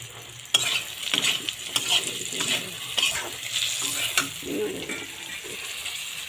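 A spoon stirs pointed gourd curry in a hot pan, scraping and clacking in irregular strokes over a steady close sizzle, with no talk.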